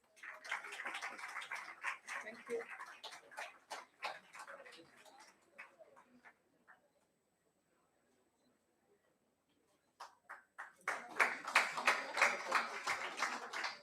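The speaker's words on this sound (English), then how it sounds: "A warm round of applause, please." Audience applause at a ceremony: a burst of scattered hand clapping that thins out and fades to near silence, then a second, louder round of dense clapping rises again.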